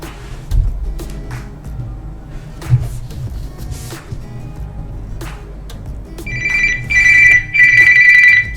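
A ringtone trills from a Samsung Galaxy S20 smartphone in a clear view cover as a call comes in from a landline, three bright repeating bursts sounding loudly near the end after soft handling noises.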